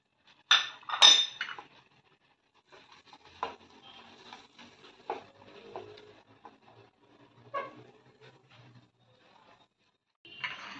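Spoons and serving utensils clink against a dish as a pan-cooked prawn starter, finished with black pepper and chopped coriander, is plated: a few sharp bursts of clatter up front, then sparse light taps and scrapes, close and fairly quiet.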